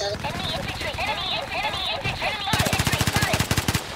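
Automatic AK rifle fire in Battlefield Play4Free, with rapid bursts of shots in the second half following game effects and chatter, set under players' voices talking.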